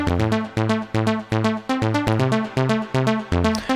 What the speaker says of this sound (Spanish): Aplicando la compresión paralela.